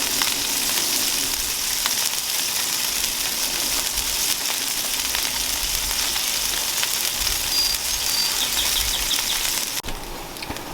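Burger patties topped with cheese sizzle loudly and steadily on a hot griddle, a dense continuous crackle with no talking.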